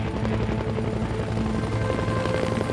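A turbine helicopter flies with a continuous, dense rotor thump and engine roar, loud and unbroken throughout.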